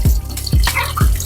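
Kitchen tap water running and splashing while bell peppers are washed under it, with irregular spattering drops close by.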